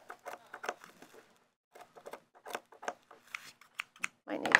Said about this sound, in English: Might need to sharpen my scissors.